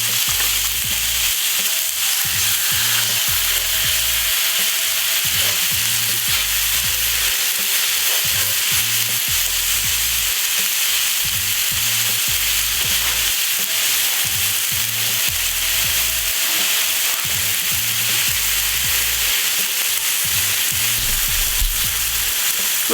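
Steak searing in very hot pans over an open wood fire outdoors, a steady loud sizzle and crackle running continuously, with low rhythmic thumps and scraping underneath and no talk.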